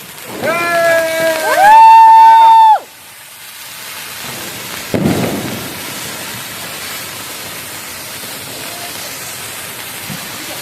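A mace-shaped Diwali firecracker is set off outdoors. A loud rising whistle is followed by a muffled pop, then a steady hissing crackle that continues at a lower level to the end.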